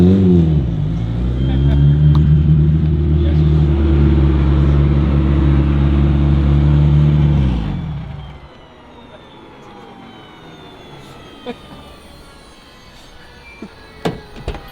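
An 1100hp Subaru race car's turbocharged engine drones loudly up close for about eight seconds, holding steady revs before cutting off, followed by quieter ambient noise with scattered clicks.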